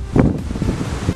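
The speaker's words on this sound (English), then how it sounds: "It's very windy today" Gusty wind buffets the microphone outdoors, a steady low rumble with a louder burst early on, continuing for just over a second with no voices.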